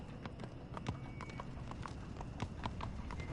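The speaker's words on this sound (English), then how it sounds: "Oh, look, it's a horse." Horse hooves clip-clopping in The Walking Dead video game, a steady walking rhythm of hoof strikes under a soft ambient background, moderately close and without talk.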